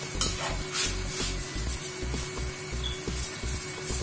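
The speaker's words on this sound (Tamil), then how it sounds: "ஸோ சைடில் வந்து வெங்காயம் வந்து வதங்கிட்டே இருக்கு." Onions sauté in a pan with salt, giving a soft crackle under steady, rhythmic scraping and stirring that recurs about every half second, close and moderately loud, with a faint tone humming behind it. There is no speech.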